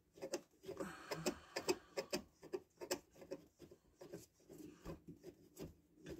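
Fine-threaded fitting turned by hand onto a Seneca Aspen/Nova Freedom pump part, giving repeated close rasping, scraping bursts in an irregular rhythm with short pauses between turns.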